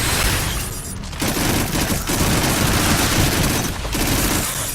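Split rockets fired from a gun in the Farpoint video game, heard as a dense, loud burst of rapid launches and booming impacts with a brief lull partway through, continuing steadily without talk.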